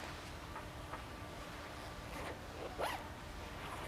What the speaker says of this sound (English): We have to reverse the zippers again.